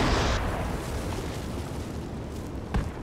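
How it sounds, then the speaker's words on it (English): Incoming rockets exploding in the tactical shooter Project Reality: a loud, close blast with a rumbling tail at the start, then a sharper second impact near the end. "Rockets coming in from northwest"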